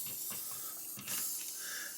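Airbrush spraying AK primer and microfiller onto a 1/48 scale M1A2 Abrams model, a steady close hiss of air and paint with slight surges.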